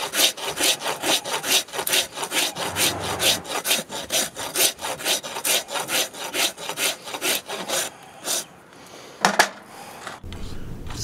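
A farrier rasping a horse hoof to balance it, rhythmic strokes scraping back and forth about twice a second, loud and close, pausing briefly near the end before resuming.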